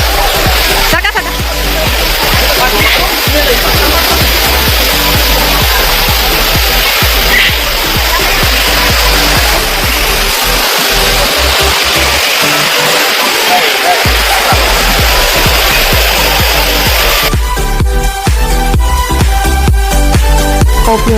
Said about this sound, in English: enjoy the waterfall with the sound